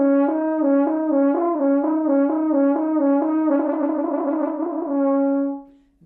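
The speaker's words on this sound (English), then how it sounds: "If you're having problems playing the trill up to speed, first take it slow and then speed it up." A horn plays a slow trill exercise, two notes alternating evenly in a steady legato pattern that quickens slightly before settling on one held tone, clear and alone without talk.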